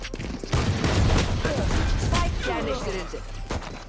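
Rapid bursts of gunfire from a Valorant ranked match, dense and loud, mixed with in-game clatter and a player's voice talking over it.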